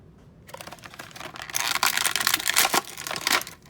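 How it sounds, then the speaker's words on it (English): Batman action figure being pulled free of its plastic retail packaging, a run of close crinkling, rustling and snapping plastic sounds that grow louder over a few seconds after a quiet start. "Pop Batman out"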